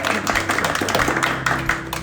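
A pub audience applauds a newly introduced guest, a steady dense patter of many hands clapping close by, with some voices faintly mixed in.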